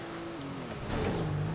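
A car in the video game GTA V picks up speed, its engine tone rising steadily and swelling louder toward the end, with no talk over it.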